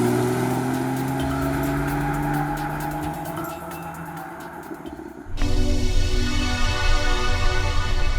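A Porsche 911 Carrera S accelerates hard, its engine note rising steadily under road and wind noise, then cutting to a louder, rougher roar heard from close by.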